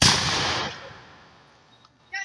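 A Jamestown re-enactor's musket fires with a loud blast at the very start, then a long echo fades away, and a short sharp sound follows near the end.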